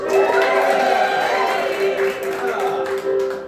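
Live radio audience in Worcester, Massachusetts, in the center of the state, cheering, clapping and shouting together as a dense, steady crowd roar that holds loud and close throughout.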